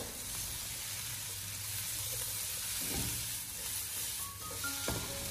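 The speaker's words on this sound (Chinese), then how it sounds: "我们不停的将它翻炒一下，把黄瓜翻炒成熟" Cucumber stir-fries in a hot wok with a steady, dense sizzle and hiss close up, and occasional scraping stirs and clatters of the spatula over the frying.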